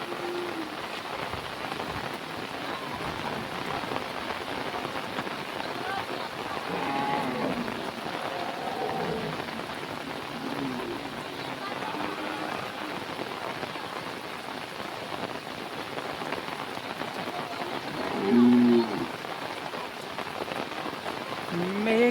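Rain falls steadily on surfaces in the countryside after many dry days, a dense, even hiss of drops that continues at the same level throughout, with one brief louder patter near the end and no voices.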